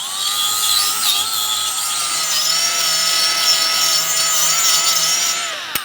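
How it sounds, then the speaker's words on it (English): A power tool grinds steadily and loudly at the rear wheel hub area of a 2000-2006 Mini Cooper during a bearing replacement, a continuous whine holding for several seconds before cutting off abruptly. "Now we're just going to clean the area."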